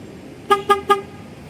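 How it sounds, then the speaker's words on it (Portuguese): A Fiat's horn, set off from the remote key to help locate the car, gives three short, evenly spaced toots, loud and clear with nothing else around them. "Aqui sinaliza, né, quando você quer encontrar o carro."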